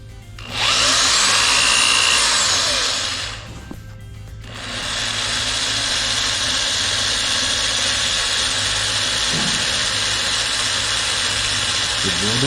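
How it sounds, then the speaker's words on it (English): Power drill boring through an aircraft wing spar, a loud high whine running steadily for several seconds, cutting out briefly, then resuming as a sustained drone to the end. "The drill bit's doing all the work."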